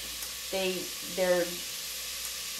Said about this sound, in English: I am cooking the onions